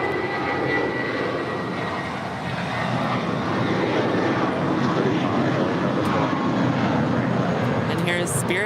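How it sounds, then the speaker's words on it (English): Spirit Airlines Airbus A320 in Fun Time livery departing LAX for Dallas-Fort Worth, its engines giving a steady, loud roar that holds throughout with a slight swell toward the end. "And here's Spirit Wings 471 off to Dallas-Fort Worth on an A320."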